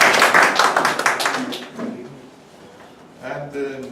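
Applause at a Toastmasters club meeting, a dense burst of many hands clapping that fades away after a couple of seconds, followed by a brief stir of room noise.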